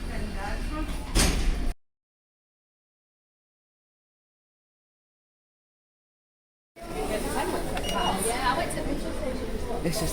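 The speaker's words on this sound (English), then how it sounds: "Doors opening." Lift doors slide open in a shopping-area lift in Dundee, a brief whooshing slide before a gap of silence, then busy ambient noise with chatter as the doors open.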